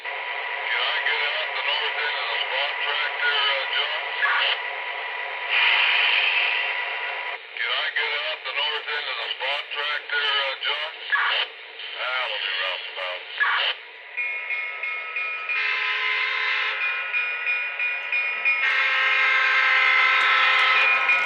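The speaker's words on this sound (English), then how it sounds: "There's the air compressor, guys, starting up. You can kind of hear it chugging along. There's the coupler sound." An MTH Conrail E33 model locomotive runs as its air compressor starts up and chugs, followed by coupler clanks and whistle-like tones, all heard behind continuous speech at moderate volume.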